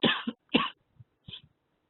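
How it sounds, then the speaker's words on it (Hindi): Two sharp coughs close by, followed by a softer, smaller cough and a brief throat sound, then silence. "सॉरी मुझे खांसी आई थी"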